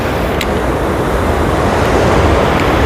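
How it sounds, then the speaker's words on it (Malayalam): Water rushing from the opened shutters of Mullaperiyar dam makes a loud, continuous broadband roar, steady and close with some wind buffeting and no talk. "ഇപ്പം വെള്ളം നല്ല രീതിയിൽ വരുന്നോണ്ടാണ് ഇവിടെ മൊത്തം നിറഞ്ഞ് ഒഴുകിക്കൊണ്ടിരിക്കുന്നത്"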